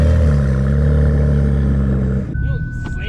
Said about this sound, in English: Nope, that's launch control right there